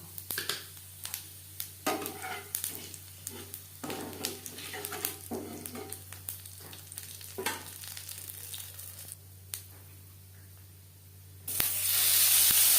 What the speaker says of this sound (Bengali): মাছ ভেজে নেওয়া তেলে দিয়ে দিলাম পাঁচ ফোড়ন